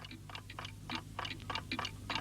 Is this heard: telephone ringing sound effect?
no